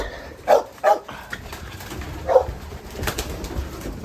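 Pigeons at a loft make soft cooing calls during feeding, with a few louder bird sounds early on and a dog barking faintly amid steady background noise.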